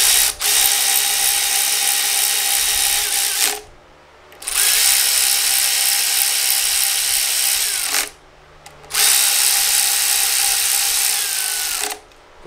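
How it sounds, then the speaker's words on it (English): Three long bursts of rapid ratchet clicking tighten three 10 mm bolts on a timing chain guide of a K-series engine, each run loud and close with brief pauses between. "Tighten these three tens up."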